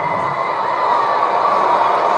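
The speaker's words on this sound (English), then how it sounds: "this adopted home crowd of Jacksonville loving the last 2 drives" Jacksonville home crowd roaring at an NFL game against the Patriots, a dense, steady wall of cheering from a large stadium audience, loud and continuous throughout.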